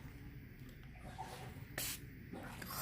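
A small 60 ml pump bottle of alcohol-based mosquito repellent gives one short, close burst of spray hiss over a steady low background hum.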